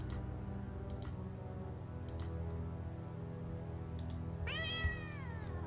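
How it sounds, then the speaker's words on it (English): A cat in the game Ravenloft: Strahd's Possession gives one drawn-out meow near the end, rising then falling, over a steady low musical drone with occasional soft clicks. "Okay. Cat sounds."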